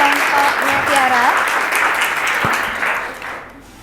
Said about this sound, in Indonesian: Oke, tepuk tangan untuk kelompoknya Tiara.